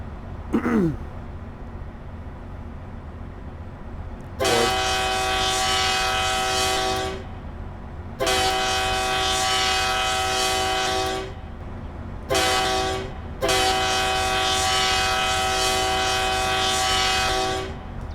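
A deep diesel locomotive horn of a CSX 3GS-21B Genset in Train Simulator Classic sounds in three long blasts and one short one, with brief gaps between. The blasts are loud and steady over a low rumble.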